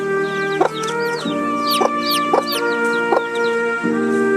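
A mother hen clucks steadily among her chicks on a farm, with low repeated clucks under a chorus of high chick peeps, close and fairly loud throughout.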